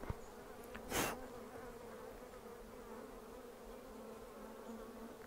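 Close, continuous buzzing of a honey bee swarm, a steady droning hum with one loud whoosh as a bee passes right by early on.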